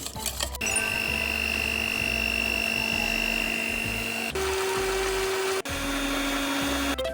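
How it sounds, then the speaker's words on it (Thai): An electric mixer whips egg whites with sugar for a flourless chocolate cake, a steady loud motor whine with shifting pitch as the beaters change speed, running continuously with brief breaks. "เราก็ตีไข่ขาวกับน้ำตาลให้เข้ากันให้ขึ้นฟูนะคะ"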